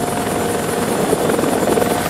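An armored military helicopter carrying about 1,000 pounds of extra armor, its rotor and turbine roaring loud and close in a steady, slightly pulsing drone, with no voices heard.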